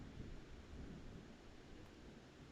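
Thunder rolls through a storm as a steady low rumble mixed with rain hiss, constant and fairly distant, with no voices.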